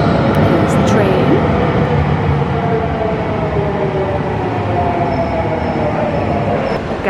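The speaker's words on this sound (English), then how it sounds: "Here's the train." A train to Sorrento rumbles loudly and steadily nearby in Naples, wheels rolling with a continuous roar and faint squeals, voices murmuring faintly underneath.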